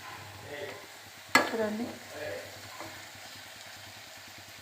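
Mutton and tomatoes fry in a pan, a steady sizzle under a sharp scrape or clatter of stirring near the start, with a voice speaking briefly.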